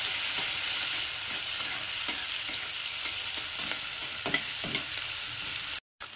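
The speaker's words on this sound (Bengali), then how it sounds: "পেঁয়াজটাকে একটু মিডিয়াম লাল লাল করে ভেজে নেব।" Two medium chopped onions fry in a pan for chicken ghugni, giving a steady close sizzle with repeated soft scrapes as they are stirred, and a brief cut near the end.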